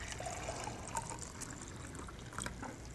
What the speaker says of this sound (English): So if I just pour this into the glass beaker